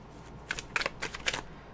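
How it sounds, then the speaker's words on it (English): Tarot cards are shuffled by hand, giving four or five quick crisp riffling bursts, close and clear over a quiet room. "Okay, so let me shuffle."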